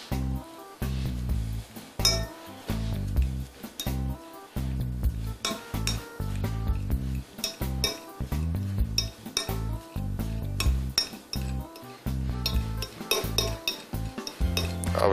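Cottage cheese being mashed in a bowl for a filling, heard as a busy run of repeated clinks, scrapes and soft thumps of a utensil against dishware, close and fairly loud with no speech.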